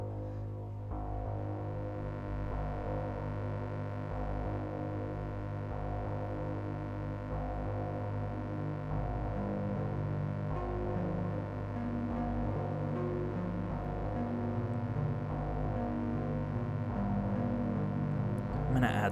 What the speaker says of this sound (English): It's actually just a sine wave coming out of the Dixie.